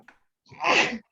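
A single close sneeze follows a brief intake of breath, loud and sudden, then silence.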